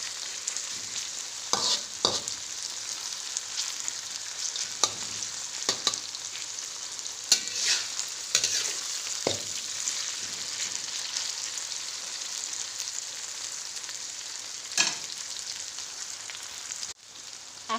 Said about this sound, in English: After a few minutes of frying of all our spices here, our onions, tomato, cumin seeds, cardamom seeds, we're gonna add our chicken.